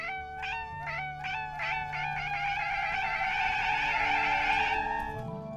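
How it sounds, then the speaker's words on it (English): A cat sound button pressed by accident gives a string of bright, close meows, repeating quickly and then stretching into one long drawn-out meow before cutting off, with faint background music underneath and no talking. "It's a meow button."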